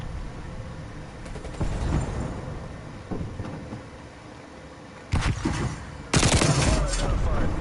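Gunfire in a first-person shooter hardpoint match comes as scattered shots, then two loud, close bursts of rapid fire near the end over a busy game background.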